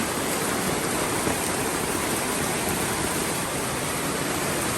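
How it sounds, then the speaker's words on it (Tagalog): Loud, steady rushing of a fast-flowing, storm-swollen river during a typhoon, a broad unbroken roar that fills the whole stretch with no voices. "Ang bilis na nung ano, ang bilis na ng tubig dito."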